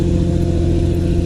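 A two-wheel-drive truck engine labors up a steep, off-camber off-road trail in Colorado, a loud, steady close-up drone with no talk.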